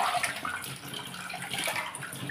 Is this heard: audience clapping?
no